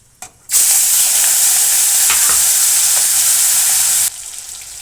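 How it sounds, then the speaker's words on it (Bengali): Prawns hit hot oil with scorched black cumin and burst into a loud, steady sizzle that holds for about three and a half seconds before dropping to a quieter crackle. "তো চিংড়ি মাছটা তেলের পরে দিয়ে দিয়েছি, একটু ভাজা হয়ে গেছে।"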